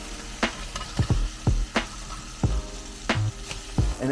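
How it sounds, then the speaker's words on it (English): Burgers sizzling on a hot cooking surface while being flipped, a continuous frying hiss punctuated by several sharp spatula scrapes and thumps, close and clear with no talking. "All right, time to flip the burgers"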